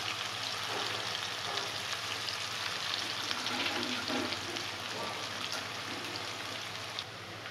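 Onions frying in a pan give off a continuous, even sizzle with soft crackles, like light rain, steady from start to finish.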